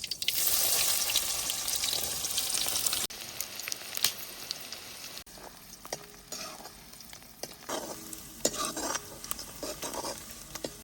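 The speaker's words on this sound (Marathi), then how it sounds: "कढीपत्ता, कांदा टाकतो." Curry leaves and chopped onion hit hot oil in a pan, giving a loud, steady broadband sizzle for the first few seconds that then settles into quieter frying with intermittent scrapes and clinks of a stirring utensil.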